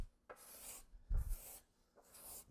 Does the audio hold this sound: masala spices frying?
no